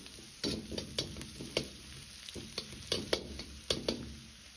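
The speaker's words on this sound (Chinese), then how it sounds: "葱蒜炒出香味" Scallion and garlic stir-fried in hot oil with carrot in a wok, a steady close sizzle broken by repeated scraping strokes of the spatula.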